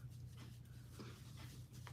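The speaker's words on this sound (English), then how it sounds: "My dog is trying to eat something downstairs." A dog moves around and pants quietly indoors, a soft steady rhythmic breathing with faint shuffling under a low constant hum, no talking.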